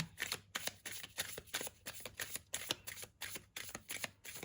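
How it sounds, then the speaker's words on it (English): Tarot cards are shuffled over and over in quick riffling bursts with short pauses between, close and crisp, with no talking. "we'll do one last shuffle"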